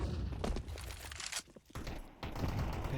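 Pistol gunfire in Counter-Strike on the Mirage map, a dense run of sharp shots and cracks with a brief lull before firing resumes, loud and close throughout.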